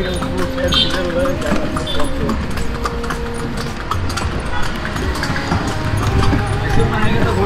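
A tanga, a horse-drawn cart in Mysore, clip-clops with a steady, close rhythm of hooves on the road, heard alongside traffic noise and background voices.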